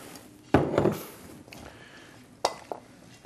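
Spoon clatters against a bowl while tamari is stirred into a squash stuffing, a burst of scraping knocks up close followed by a couple of sharper taps, with quiet pauses between.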